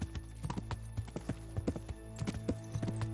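Horse hooves clip-clopping in a steady gait while riding in the medieval game Kingdom Come: Deliverance, with close, repeated hoofbeats over a constant low rumble.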